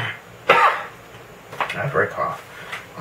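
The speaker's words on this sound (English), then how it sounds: "After I cough." A man coughs and clears his throat a few times at close range, a sharp burst followed by several rougher, rasping throat sounds over about three seconds.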